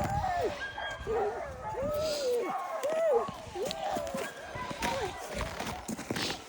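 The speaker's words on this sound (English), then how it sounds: "So now I'm gonna introduce you to my sled dog team" A sled dog team barks and yips excitedly in the Arctic cold, overlapping high barks and whines tumbling over one another continuously at close range, with a person's voice mixed in.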